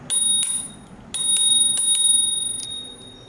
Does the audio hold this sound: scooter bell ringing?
yes